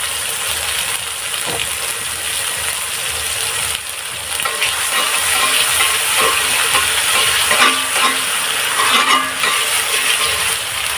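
Ginger, garlic, cumin and onion sizzle steadily in hot oil, a continuous broadband frying hiss with scattered crackles and pops that swells slightly midway and stays loud throughout, with no talking.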